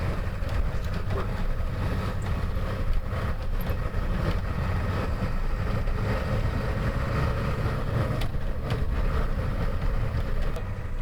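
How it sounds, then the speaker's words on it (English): A 1992-1997 Ford F-series truck with a reverse shackle kit rumbles along a rough dirt county road off-road, its engine droning loud and close. Constant jostling and rattles run through the whole stretch. "So at this point, we're really just off-roading. We're not really driving on a road anymore."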